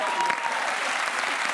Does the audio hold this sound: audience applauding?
yes